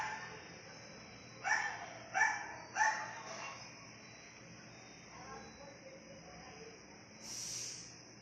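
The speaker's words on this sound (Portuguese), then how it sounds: "tem mais cachorro latindo" Dogs bark somewhere in a neighbourhood, three distant, muffled barks in quick succession over a steady background hum, followed by quieter faint sounds.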